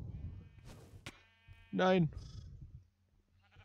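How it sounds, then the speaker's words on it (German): Sheep bleating in the Minecraft video game, one clear bleat of about a quarter second with a quavering pitch, standing out over quiet game background with someone speaking briefly before it. "Nein, das ist ein Schaf."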